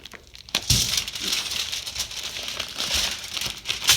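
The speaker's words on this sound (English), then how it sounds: "Just peel the wrapper back." A crinkly plastic wrapper is peeled back by hand during burger prep at a charcoal grill, giving a continuous crackling rustle with a sharp crinkle near the start and bursts toward the end.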